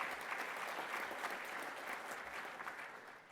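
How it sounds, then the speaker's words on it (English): An audience claps for a firefighter in a steady, even roll of applause, moderately distant and fairly soft, fading a little at the close with no speech over it. "You guys should give him an applause."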